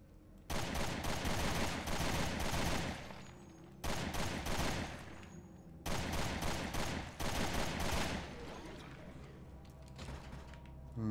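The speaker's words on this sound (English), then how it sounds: "let's shoot this guy" Sustained automatic gunfire in the video game Resident Evil Revelations 2, loud dense bursts of rapid shots lasting several seconds each, broken by brief gaps, with the firing continuing more faintly toward the end.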